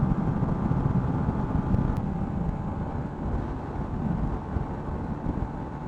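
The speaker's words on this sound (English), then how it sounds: "there's a lot of wind and I'm getting cold" Steady broadband wind roar buffeting the microphone while riding a 125cc motorbike on a long trip, loud and continuous with low rumble throughout and no pauses.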